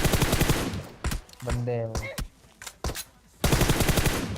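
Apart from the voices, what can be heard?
gunfire in video game PUBG Mobile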